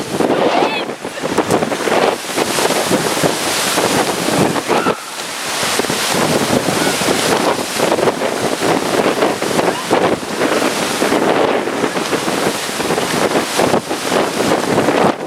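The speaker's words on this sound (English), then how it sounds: "This is the wind." Hurricane Sandy: strong wind roars and buffets a microphone in continuous loud gusts, with a brief lull midway and surf-like rushing throughout.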